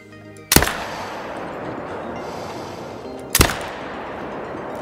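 Two sharp, loud rifle shots from a 300AR at a piebald crocodile in Call of the Wild, a few seconds apart, each with a short booming tail over quiet outdoor ambience.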